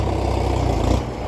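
One of two farm tractors rumbles at close range with a low, steady idling throb that dips slightly near the end.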